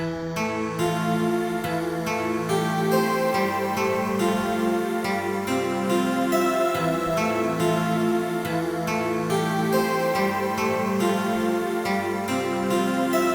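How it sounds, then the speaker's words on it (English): A soft, airy synth pad with a breathy vocal-like guitar tone drifts along steadily, layering a gentle melody with no voices or percussion. "This is the last melody sound. It's this guitar vox sound."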